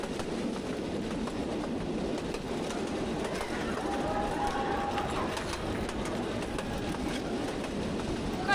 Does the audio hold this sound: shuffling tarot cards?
no